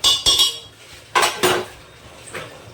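Egg and potato curry being sautéed in a pan, heard as a few sharp metallic clanks and scrapes of a spatula against the pan in separate bursts, with quiet gaps between them.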